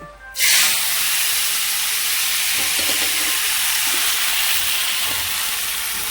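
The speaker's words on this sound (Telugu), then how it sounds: "ఇప్పుడు ఆయిల్ కాగింది ఇందులో కొత్తిమీర వేసేద్దాం" Coriander leaves hit hot oil with a sudden loud hissing sizzle that stays dense and steady to the end, close up with no speech, while making a ridge gourd chutney.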